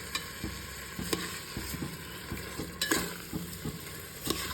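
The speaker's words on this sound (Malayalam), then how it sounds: "ഇതിലേക്ക് നമുക്ക് അരി ഇട്ട് കൊടുക്കട്ടോ. ഇനി ഇതൊന്ന് നന്നായിട്ട് മിക്സ് ചെയ്യണേ." Rice being stirred into chicken biryani masala in a pot: soft scraping and shuffling strokes with a spoon, repeated at a steady rhythm over a low sizzling hiss, close up and without talk.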